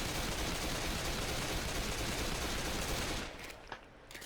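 Double pistols firing in Left 4 Dead 2, a dense, rapid stream of gunshots filling the clip loudly before cutting off near the end, leaving quieter game sounds.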